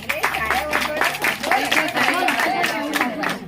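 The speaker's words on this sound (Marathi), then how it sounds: "सर्वांनी टाळ्या वाजून स्वागत करावे" Audience clapping at an aarti competition prize distribution, a steady patter of many hands lasting a few seconds at moderate loudness, with no words spoken over it.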